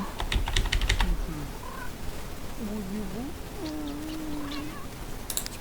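Several short meows rise and fall over a steady hiss, with a burst of rapid keyboard clicking at the start and a few clicks near the end.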